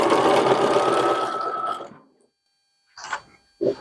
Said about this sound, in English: When I sew, I'm sewing across the strap only where it's caught.